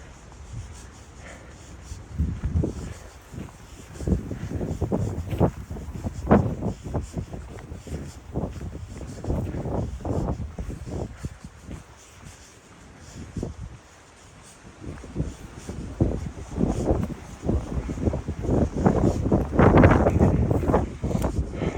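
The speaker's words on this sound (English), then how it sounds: "I don't know if you can tell, but it's pretty darn windy" Strong gusting wind on a forest hike along the Three Fingered Jack Loop near the PCT, buffeting loudly in irregular bursts and roaring surges over a steady rushing background, with no talking.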